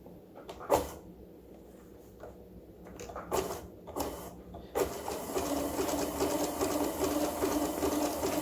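A sewing machine sets into a steady, close, rapid whirring hum as it zigzag-stitches a raw edge applique quilt, after a few scattered clicks and handling knocks.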